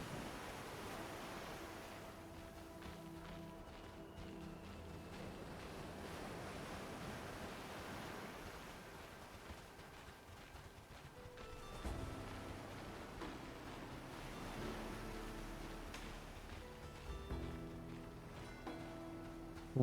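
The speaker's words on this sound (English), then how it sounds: "Water looks real cool." Water waves in the Monsters & Memories video game wash softly in a continuous surf-like hiss beneath layered game music tones, faint and steady throughout.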